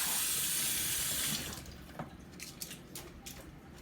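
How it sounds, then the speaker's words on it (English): Tap water runs steadily as skewer sticks are rinsed under it, a close and full hiss for over a second, then it cuts off, leaving soft drips and small wet clicks. "I'm just going to rinse them off like so. Just rinse them off."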